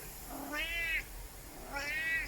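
A pet cat in an urban backyard container garden gives two clear meows about a second apart, close and moderately loud over quiet outdoor background.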